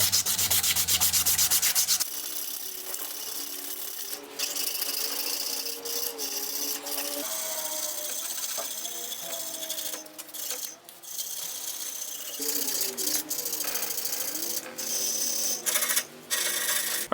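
Continuous close scraping and rubbing of sandpaper on a wooden knife handle, steady and fairly loud, with a brief harsher burst at the start.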